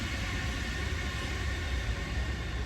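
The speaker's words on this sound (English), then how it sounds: "Wait, I think there's a train coming." A train passes at a steady distance, a continuous broadband rumble and rush that holds level throughout without any talking over it.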